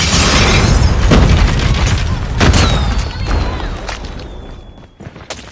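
Frag grenade detonating in Call of Duty Mobile during a hardpoint match, a loud heavy boom with rumbling debris under ongoing gunfire, then fading as game noise continues.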